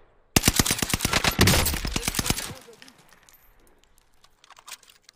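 Rapid automatic gunfire from an NZ gun in Call of Duty: Warzone, a loud burst of about twenty close sharp shots in quick rhythm, then quieter scattered distant shots, no talking.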